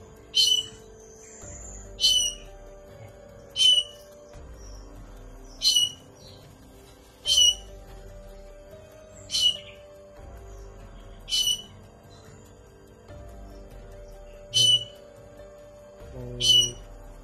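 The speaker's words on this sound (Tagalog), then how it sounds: "May ingay ng ibon" Sharp bird calls repeat roughly every two seconds, clear and fairly close, over a quiet forest background with faint low rustling.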